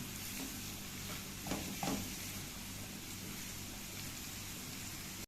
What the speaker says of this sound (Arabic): هنزل بالبصلايه اللي انا بشراها، واخليها ايه تاخد لون